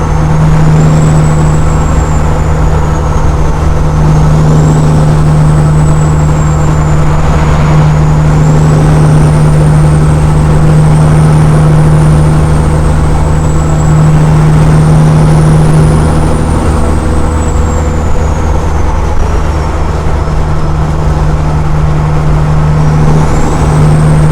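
Steady, loud highway roar of trucks and cars merging near an exit, heard from inside a moving vehicle, with a constant low engine drone and a faint wavering whine above it throughout.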